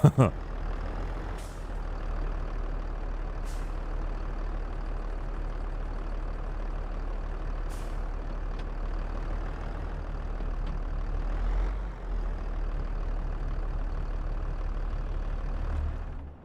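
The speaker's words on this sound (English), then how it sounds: "I'm normally not a big Valtra fan, to be honest with you, but the sound of this tractor is" Valtra tractor engine in the video game Farming Simulator 22, a steady low rumbling drone that holds at an even level throughout, with occasional faint higher clicks and hisses over it.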